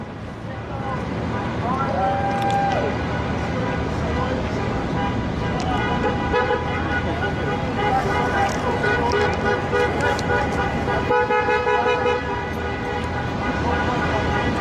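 Busy street traffic during a Los Angeles protest, with repeated car horns honking over a steady roar of engines and wind, close and loud, while people talk throughout.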